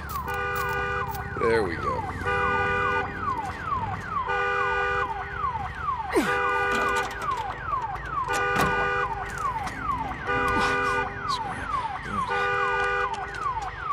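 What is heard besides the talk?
alarm sounding in the video game Days Gone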